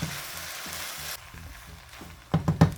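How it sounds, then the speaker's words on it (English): Food stir-fried with soy sauce in a pan sizzles steadily up close, with a few louder bursts of hissing and utensil scrapes near the end. "add in the soy sauce itself. And stir that around."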